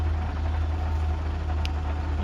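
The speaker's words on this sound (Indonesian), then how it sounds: "Suara truknya rotak tapi kuat ya, aman" A truck engine idles in a truck parking lot at a petrol station, a steady low rumble that holds evenly throughout with no speech, heard up close.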